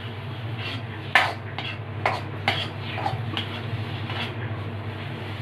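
Horse gram being stirred and dry-roasted in a pan, with repeated sharp scrapes and knocks of a spoon against the metal over a steady low hum, moderately loud and without talk.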